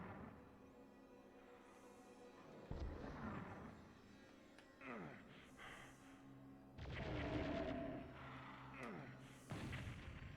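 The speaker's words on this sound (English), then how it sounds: "there's a couple of barons up there which we want to use our rockets on" Rocket blasts from the 1995 PlayStation Ultimate Doom game, fired at barons, come as several deep booming explosions spaced across the stretch, each with a sharp onset and rumbling decay over a low, steady game background.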